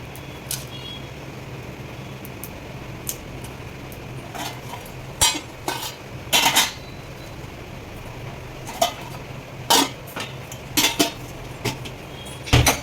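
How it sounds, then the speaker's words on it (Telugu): Whole garam masala spices — shahjeera, cinnamon, cardamom pods and cloves — stirred in a pan while cooking masala vankaya, giving scattered metallic clinks and scrapes of a spoon against the pan over a low steady hum, with no talking. "హోల్ గరం మసాలా కూడా వేసేసుకుంటున్నాను."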